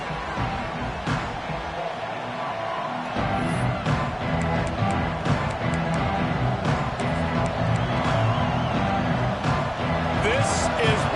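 College football stadium crowd at a UL Monroe game roaring in a continuous dense din, loud and steady, with a commentator talking over it.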